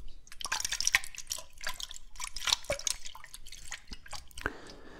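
Close, intimate water drops plink and splash irregularly, with soft trickling and a brief pour toward the end, all alone without any voice.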